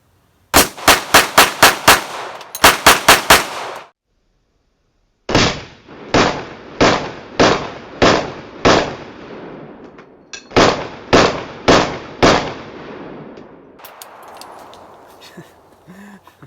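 Shots from a Canik TP9SFX competition pistol fitted with an aftermarket trigger, fired outdoors at ten yards: a rapid burst of about eight sharp cracks, another quick string of four, then two slower strings of five and four reports, loud and close.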